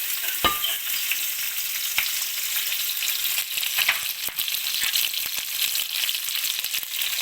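Onions sizzle steadily in olive oil in a pan, a dense, even frying hiss that fills the whole clip, broken by a few sharp clicks and taps of a utensil.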